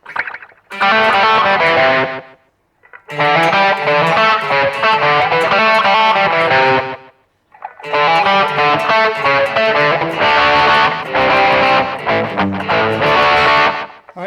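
Electric guitar with a distorted tone from a BOSS eBand, played dry without reverb, in three loud sustained phrases with brief silent gaps between them.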